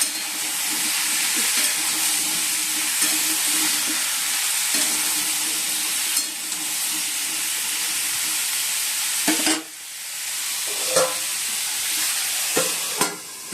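A mixed vegetable curry of pumpkin, potato, drumstick, pointed gourd and ridge gourd with ginger paste sizzles loudly and steadily in a pan, broken by several sharp scraping stirs near the end.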